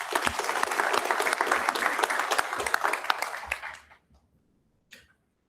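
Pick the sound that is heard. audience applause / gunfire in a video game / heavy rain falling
audience applause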